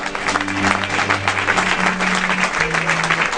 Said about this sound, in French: Est-ce qu'on peut une forte acclamation?